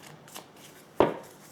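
Tarot cards shuffled and drawn, with a faint papery rustle followed by one sharp, close slap as a card lands, no voices.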